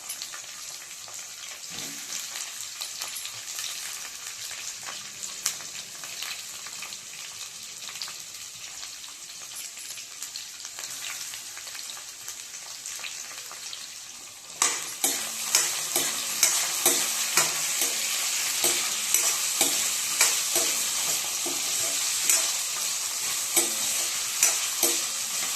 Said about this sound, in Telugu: కొద్దిగా ఆయిల్లో వేగాలి ఫ్రెండ్స్.